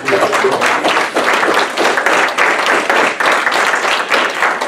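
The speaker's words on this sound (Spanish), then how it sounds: "Dale el aplauso a Jesús" A church congregation claps together in loud, sustained applause during a worship service, a dense wash of many hands with a faint rhythmic pulse that holds steady throughout.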